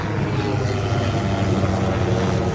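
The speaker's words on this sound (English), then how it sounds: "Helicopter." A helicopter flying overhead makes a steady, loud rotor and engine drone that fills the air, holding constant throughout with no voices.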